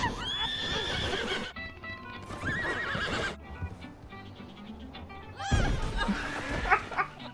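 A horse in Red Dead Redemption 2 gives several loud, shrill neighs and whinnies with clip-clopping hooves in between. The bursts come in bright repeated calls, and a faint voice sits underneath.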